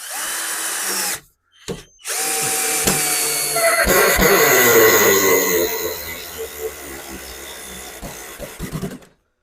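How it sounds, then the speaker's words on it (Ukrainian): An Aurora 12V cordless screwdriver on its second speed drives a screw into ash wood. It gives a few short motor bursts, then a loud, steady whine that strains and tapers off as the screw seats. "Пробуємо на другій швидкості, можливо, Антон закрутить"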